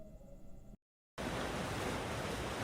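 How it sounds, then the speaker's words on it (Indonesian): Ocean surf breaking on Nembrala beach, a steady broadband wash of waves that cuts out briefly into silence and returns louder and fuller, with no voices over it. "Suara debur ombak pantai Nembrala yang lama-lama terdengar membuat suasana kian keruh"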